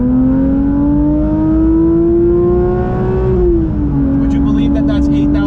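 A Porsche GT3 engine revs to 8,000 RPM, a loud, smooth, high-pitched engine note heard from inside the car that climbs steadily, then dips and settles before the end.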